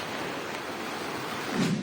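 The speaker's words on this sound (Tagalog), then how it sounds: "halos umapaw na ang dike sa lakas na ragasan ng tubig" Strong floodwater rushes at a dike during a typhoon, a dense, steady roaring hiss of fast-moving water with wind noise, continuous and unbroken, swelling slightly near the end.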